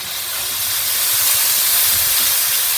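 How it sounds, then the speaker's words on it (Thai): Seafood spaghetti stir-fried in a wok over high heat, producing a steady, loud hiss of sizzling oil and steam with faint low clatter beneath, continuous and without talk. "เราผัดเยอะเราผัดเป็นห่อเลย เปิดไฟแรง"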